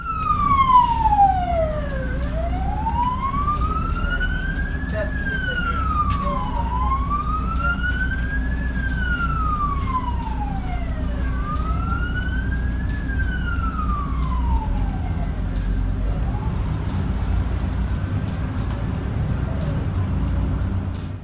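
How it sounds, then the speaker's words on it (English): Ambulance siren wailing in slow rising and falling sweeps amid traffic, the vehicle stuck moving in the lane with other cars, loud and steady over a constant road rumble before fading toward the end. "the ambulance has to move in the lane with the rest of the cars, even though the siren is on"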